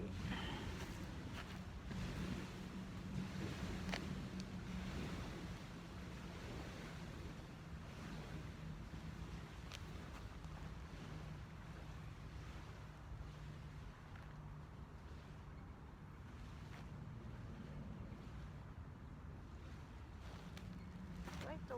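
Ocean surf at a Hollywood, Florida beach rolls in steadily, with a constant wash of waves and light wind buffeting the microphone throughout.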